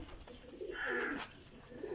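Pigeons cooing in a loft of high-flying racing pigeons kept for sale, soft throaty coos swelling in the middle of a short stretch with no talk.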